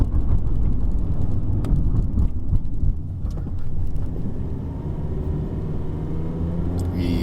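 Perodua Bezza sedan driving in automatic D mode over road humps, a steady loud road and engine rumble with brief thumps as the wheels meet a hump.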